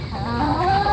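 A chicken gives a brief run of clucking calls, close and fairly loud.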